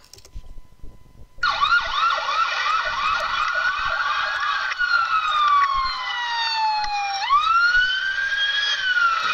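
A police siren wails steadily, cycling through rising and falling tones, then sweeps sharply into a different pattern; loud and close, with no talking.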